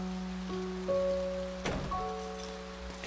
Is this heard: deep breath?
no